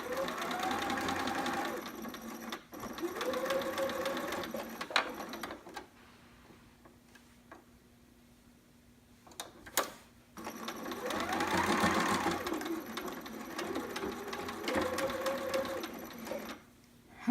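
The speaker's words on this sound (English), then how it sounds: "I kind of backstitched over that little bodice part again" A sewing machine backstitching over the bodice seam of a romper runs in two steady, rattling bursts of about five seconds each, separated by a quiet pause.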